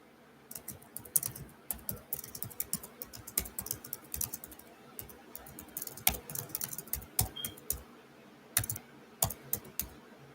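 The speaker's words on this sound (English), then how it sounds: "Just let me finish typing this" Typing on a computer keyboard during a live spirit-message reading session, a steady run of close, crisp key clicks with short pauses and irregular bursts throughout, no voices.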